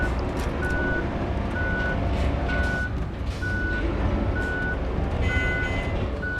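A truck in the video game RoadCraft sounds its reversing alarm: evenly spaced, high electronic beeps repeat over a constant low engine rumble, with no voices.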